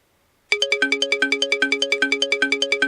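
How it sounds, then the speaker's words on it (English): Crisp synthesized notes cycle in a fast, even MIDI arpeggio driven by a timer in Bome MIDI Translator Pro, each plucked tone stepping through a repeating pattern, clean and upfront after a moment of silence. "And there you go, we have our arpeggiator."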